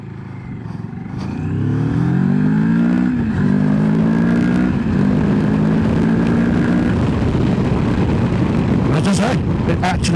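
A 2022 Moto Morini X-Cape 650 motorcycle pulls away hard in a low gear, its engine note climbing steadily and loud, close by and continuous through the acceleration, with a brief clatter near the end.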